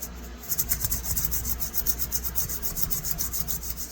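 Folded abrasive rubbed back and forth inside the handle well of a vintage folding knife, a steady close scraping with an even rhythm of strokes, heard alone.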